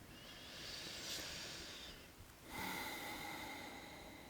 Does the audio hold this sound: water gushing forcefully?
no